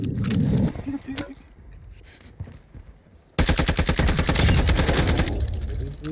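Rapid automatic fire from an ISO Hemlock rifle in a video game, a loud close burst of evenly spaced shots after a few scattered earlier shots, with people talking.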